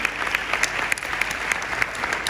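Audience applause fills the room, a dense, steady patter of many hands clapping at an even level throughout, with no voices over it.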